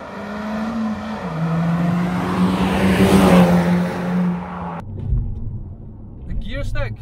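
A Mk5 VW Golf GTI with a 6-speed manual pulls hard in third gear, its engine drone rising steadily and loud for about five seconds before dropping away as talk takes over.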